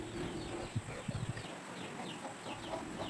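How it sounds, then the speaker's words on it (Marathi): A hen with her chicks, returning home at nightfall, clucks in short bursts against a steady outdoor hiss, the soft calls coming in a brief cluster midway and fading after. "कोंबडी पण आपली पिल्लं घेऊन जसं काळोख पडला तशी घरी आले बघा आवाज करते"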